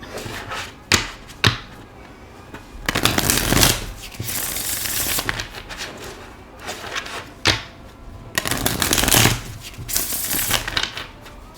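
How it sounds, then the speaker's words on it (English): Tarot cards shuffled close up in repeated bursts, with sharp taps and riffling rustles spread through the clip. "All right, I'll shuffle it like that."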